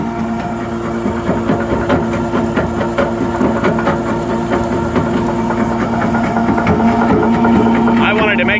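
A New Holland skid steer fitted with a jaw crusher bucket crushes concrete, its engine chugging loud and steady throughout with rough mechanical knocking and rattling layered over the drone.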